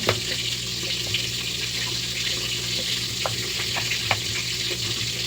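Hot oil spatters steadily around frying milkfish, a constant busy hiss with scattered sharper pops and crackles, fairly close and without talk.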